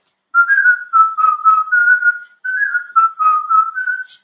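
Someone whistles a bright, lilting melody in short phrases, clear and close, with a brief pause midway before the tune continues.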